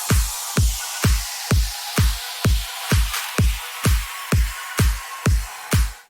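Progressive house drop with a reverse snare, glitch effects, ambience and clap: a loud, steady four-on-the-floor kick pulses about twice a second under a bright, washy layer of ambience and percussion, with no voices.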